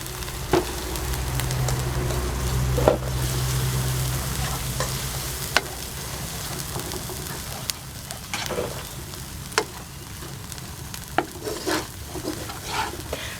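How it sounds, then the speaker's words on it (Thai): Red curry paste is stir-fried over medium heat while coconut cream is added gradually, producing a close, steady sizzle with repeated spatula scrapes and occasional sharp clacks against the pan, with no voices. "ต้องผัด พริกแกงของเราให้หอมๆเลยนะคะ ใช้ไฟกลาง ๆ แล้วก็ค่อยๆเติมหัวกะทิลงไปเรื่อยๆค่ะ"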